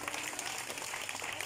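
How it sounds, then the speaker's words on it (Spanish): Steady applause from an audience at a political party's public presentation, a dense wash of clapping with faint crowd noise throughout. "también un fuerte aplauso para él."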